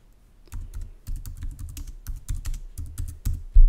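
Close, brisk typing on a computer keyboard: a run of quick plastic key clicks in uneven bursts with short pauses, ending in a heavier keystroke, with no talking over it.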